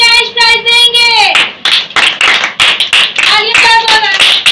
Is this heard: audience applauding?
yes